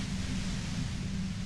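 Steady white noise from the video game Disco Elysium, a dense, even hiss with a heavier low rumble underneath, constant and unbroken throughout.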